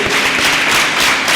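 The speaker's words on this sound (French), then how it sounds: "je peux entendre vos applaudissements" An audience at a women's day event in Allada, Benin, claps, a dense, loud wash of applause held continuously without a break.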